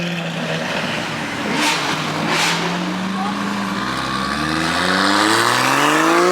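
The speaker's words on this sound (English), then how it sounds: "Bro, that Mark 5 Supra's loud." Toyota Supra Mk5 engine revving hard, the pitch climbing steeply in a loud sweep near the listener among other loud supercars, with voices faintly underneath.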